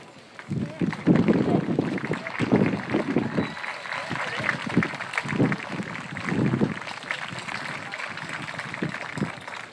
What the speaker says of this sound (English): Students, please stand and give your teachers a round of applause.